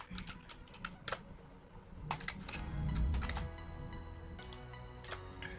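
Someone types HTML code on a computer keyboard, with close, crisp key clicks in irregular bursts and a few louder strikes. The sound is quiet, and no one speaks.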